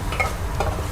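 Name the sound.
fish being sautéed in a pan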